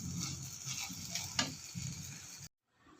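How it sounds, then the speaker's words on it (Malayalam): Instant noodles are stirred together with their packet masala mix in a pan, making soft, close sizzling and scraping with a sharper clink midway, before the sound cuts off abruptly near the end. "നന്നായിട്ടൊന്ന് ഇളക്കി യോജിപ്പിക്കുക."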